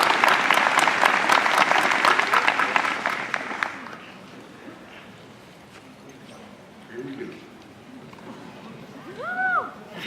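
Applause at a college commencement ceremony, loud and dense for about four seconds before fading out, leaving quiet room tone and a brief voice near the end.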